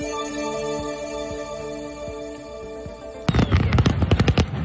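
A steady hum and tones give way to a fast crackling string of Fourth of July firework bangs over Lake Tahoe, sharp and rapid, lasting a few seconds.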